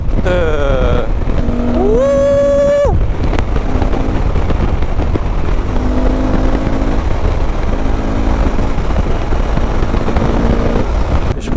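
A Honda Africa Twin Adventure Sports with the DCT automatic gearbox rides along, its engine note climbing through rising revs early on, then settling into a loud, steady drone thick with wind rush.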